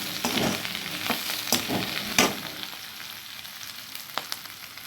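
Small onions sizzle and crackle in a hot pan with dried red chillies, a few sharp scraping stirs near the start before the frying settles to a quieter hiss.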